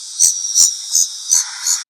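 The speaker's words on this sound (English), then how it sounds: "You might hear cicadas in the summertime when it's hot." Cicadas buzz in a hot summer forest with loud, hissing pulses close by. Five evenly spaced swells repeat over about two seconds, and the buzz stops abruptly at the end.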